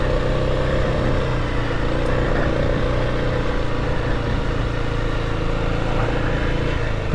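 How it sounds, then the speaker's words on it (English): An adventure motorcycle carrying pannier luggage strains up a steep, greasy, muddy slope, its engine droning steadily and loudly at close range as the rear tire spins, with no talk. "Back tire spinning."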